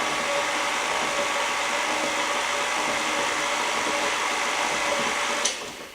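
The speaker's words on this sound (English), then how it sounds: "and then turn the mixer back on" An electric mixer whirs steadily, beating flour into cookie dough for finger-shaped cookies: a loud, even motor drone held the whole time with one small knock near the end.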